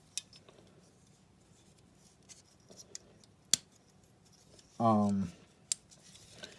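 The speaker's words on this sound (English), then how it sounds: "scissors." Scissors on a Leatherman Wave multi-tool are opened and handled, giving scattered small clicks and one brief, louder snipping burst, with a short spoken hesitation.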